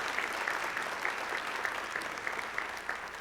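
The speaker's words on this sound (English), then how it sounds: "Can we give a round of applause, please, in honor of Joy Richardson?" An audience at an education awards celebration claps steadily in honour of a retired schoolteacher, a dense, even round of applause filling the room with no talk over it.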